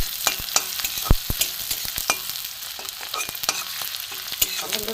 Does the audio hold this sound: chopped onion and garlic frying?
yes